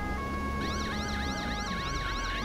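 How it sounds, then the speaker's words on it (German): Police car siren in the game Autobahn Polizei Simulator 2, a rising and falling electronic wail switching on over steady road and engine noise, fairly close and continuous. "So, Blaulicht an. Sirene, um zu signalisieren,"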